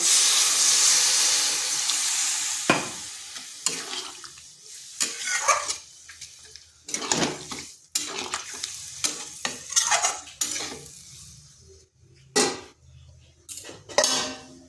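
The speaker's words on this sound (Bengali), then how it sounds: "দিয়ে দিচ্ছি জল" Water poured into a pan of flat bean and potato curry, with clattering pot and utensil knocks, stirring scrapes and a steady background hiss, in a series of short loud bursts close by.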